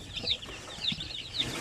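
Small chicks peeping in short, high chirps at a poultry farm, three quick bursts close by, with soft low rustling underneath and no talking.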